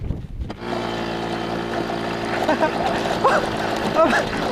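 A homemade adventure bike with a TVS 50 engine starts after a brief silence and runs steadily, a loud buzzing small-engine drone that swells as the bike moves off over rough ground.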